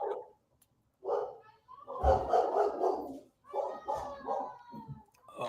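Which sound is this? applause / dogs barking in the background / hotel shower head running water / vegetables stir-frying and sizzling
dogs barking in the background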